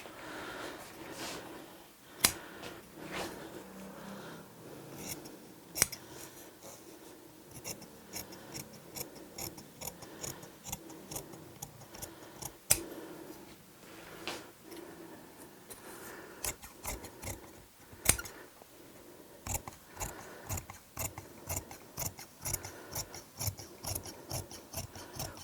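Scissors snip notches into the edge of fabric during garment fitting. The cuts come as a quiet, irregular series of sharp clicks and rasps, with a few louder snaps, over faint rustling.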